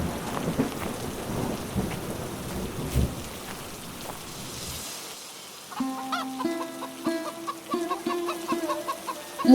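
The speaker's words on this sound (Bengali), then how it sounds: "এদিকে সন্ধ্যা হয়ে এলো বৃষ্টিও শুরু হয়েছে" Steady evening rain pours down with a distant rumble of thunder, then clucking chickens take over with repeated clucks and calls nearby, no talk.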